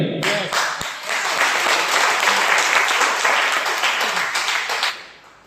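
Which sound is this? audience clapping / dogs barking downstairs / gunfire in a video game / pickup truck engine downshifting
audience clapping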